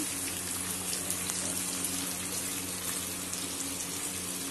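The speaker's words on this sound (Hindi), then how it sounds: "हमने एक चौथाई कप के करीब पानी लिया है ये डाल देंगे पानी ध्यान से डालें ये उड़ता है एकदम से" Water poured into a pan of onion masala frying for rajma, giving a steady, even hissing sizzle that carries on without a break, close and moderately loud, with no talking.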